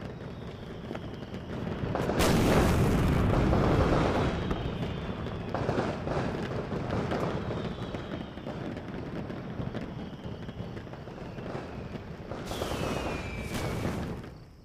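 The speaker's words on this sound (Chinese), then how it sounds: "刚才的烟花表演，好看吗？" Fireworks show with a rolling series of booms and crackles, some whistling rockets streaking up, dense and continuous with a louder burst early on, heard from a moderate distance.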